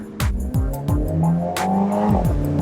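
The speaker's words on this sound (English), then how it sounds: "The exhaust pops." A Mini Cooper S John Cooper Works Convertible engine revving up and down through gear changes, loud and close, with sharp crackling pops from the exhaust.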